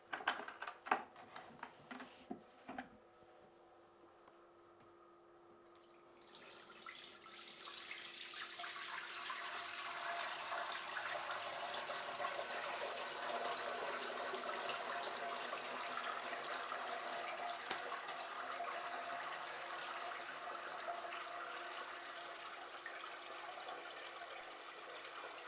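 A steady, broad rush of elderflower champagne liquid pouring and splashing through a colander, close by, preceded by a few clunks and a brief lull.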